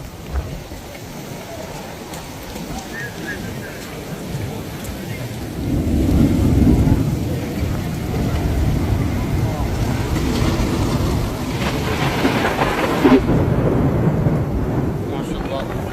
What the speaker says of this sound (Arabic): بس شوفوا قوة الأمطار، قوة الهواء